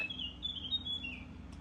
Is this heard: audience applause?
no